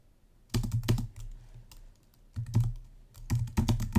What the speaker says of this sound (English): in the message field, type anything you want